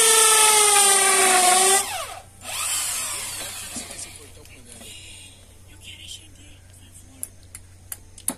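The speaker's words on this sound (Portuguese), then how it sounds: "Aí eu tô furando um pouco e tô colocando" Power drill boring into hard wood while a small wooden stool is built: a loud, close whining burst that winds down after about two seconds, followed by quieter ticks and handling noises.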